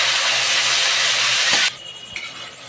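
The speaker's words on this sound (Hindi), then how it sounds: "यहीं पे मैं 2 टमाटर पीसी हूँ वो भी मैं डाल देती हूँ और अच्छे से टमाटर भी पका लूँगी" Two ground tomatoes go into a hot pan for a chana dal fulauri recipe: a loud, bright, steady sizzle that cuts off suddenly after about a second and a half, followed by faint clinks.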